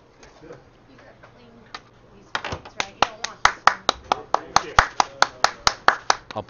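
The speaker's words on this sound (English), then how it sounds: "Applause for the teams coming in from sheet A." Applause for curling teams entering from sheet A at a club challenge: scattered claps build into a steady round of clapping from a small crowd, close and lively.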